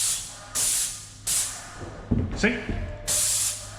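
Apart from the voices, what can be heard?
paint spray gun spraying a staircase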